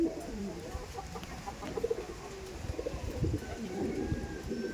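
Kalasobuj pigeons in a large loft coo in soft, repeated low rolling calls, several birds overlapping, with faint background noise.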